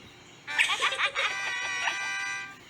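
A singing voice imitates a rooster's cock-a-doodle-doo crow in a Dora the Explorer cartoon song, a bright, loud, drawn-out call with a choppy start and a long held ending.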